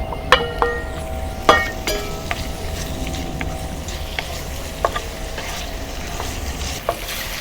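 Firm tofu stir-fries over low heat in a pan with garlic, giving a steady soft sizzle with scattered sharp clicks and scrapes of a utensil against the pan. No one speaks.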